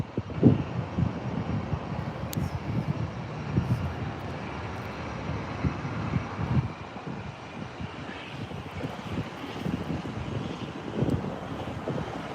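A Delta Airbus A320 jet lining up on a runway at LAX gives off a steady, moderately distant engine roar with low rumble and gusty wind buffeting across the microphone.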